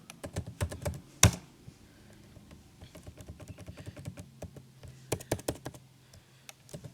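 C++ code being typed on a computer keyboard in quick, close, uneven clicks and taps, with one sharp louder key strike early on.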